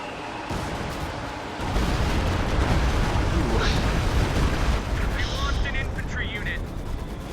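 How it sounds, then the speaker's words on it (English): A Stuka rocket barrage in Company of Heroes 3, a sudden rumbling roar of rapid explosions and gunfire on an icy battlefield that keeps going, loud and close, with a commentator talking over it. "Stuka firing."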